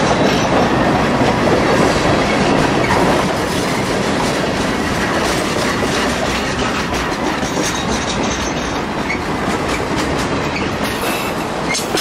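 A long CSX freight train rolling past a trackside detector at about 34 mph, a loud close continuous rumble of wheels with rhythmic clickety-clack over the rails and faint squeal.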